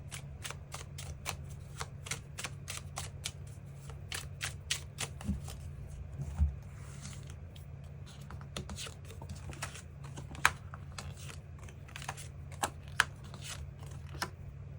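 Tarot cards being shuffled and drawn, a steady run of crisp, rapid card flicks and riffles close up over a low background hum, with no talking.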